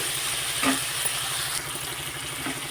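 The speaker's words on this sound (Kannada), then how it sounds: "ಬೇಗನೆ ಈಗಿದು ಫ್ರೈ ಆಗಲಿ" Corn semolina with salt frying in a pan, a steady soft sizzle with a light low hum and a couple of brief scraping stirs, close and continuous, no talk.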